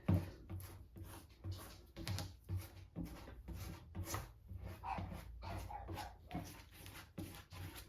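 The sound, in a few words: dog barking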